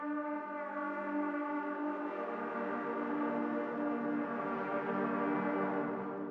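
A multiphonics patch from the Spitfire Audio Albion V library sounds as one dense, sustained chord-like drone of many stacked overtones, steady in loudness throughout with no voices.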